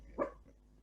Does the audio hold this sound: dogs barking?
yes